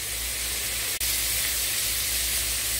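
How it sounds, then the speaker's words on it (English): Canned food sizzles in a hot pan during Southern holiday cooking, a steady close hiss of frying with a brief dropout partway through. "I'm still going to let them sizzle"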